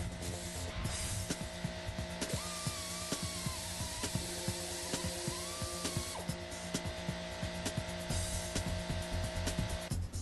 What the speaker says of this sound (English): Use the drill bit R to drill into the weep hole in the back of the spindle.